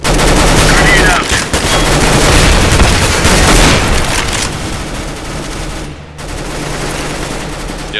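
Loud gunfire and a grenade blast fill a multiplayer shooter game, bursts of rapid shots layered with booming impacts and a sharp drop around six seconds, all up close and dense.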